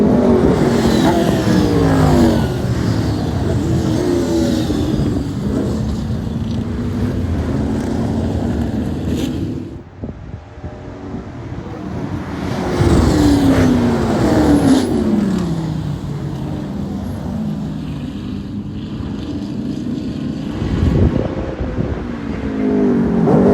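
A Volkswagen Jetta race car at Daytona drives a loud, sustained engine run with rising and falling revs through gear changes. The sound dips briefly midway before building again, and no one talks.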